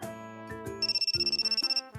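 A phone rings with a steady, electronic trilling tone in rapid repeated pulses, loud and close, set over background music in a visual novel scene.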